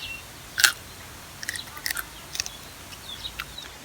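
Crunchy snack being bitten and chewed close to the mic, a few sharp crunches spread over a few seconds with no voices.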